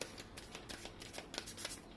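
Tarot cards are shuffled and drawn by hand in a rapid run of soft riffling flicks and slaps, close and quiet, with no talk over them.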